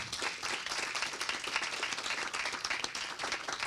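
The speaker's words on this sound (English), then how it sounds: "Let's give him a big round of applause." An audience at a food security and nutrition panel event gives a brisk round of applause, many hands clapping steadily and fairly evenly across the whole stretch, without talk over it.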